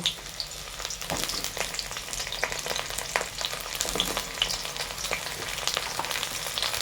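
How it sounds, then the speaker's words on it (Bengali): Sliced pointed gourd (potol) sizzles in hot oil in a pan for an egg curry with potato, a steady close crackle with sharp pops and occasional stirring scrapes throughout. "এবার এই তেলেতেই আমরা আমাদের কেটে রাখা পটলগুলো ভাজতে দিয়ে দেবো"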